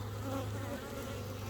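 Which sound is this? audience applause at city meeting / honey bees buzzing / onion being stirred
honey bees buzzing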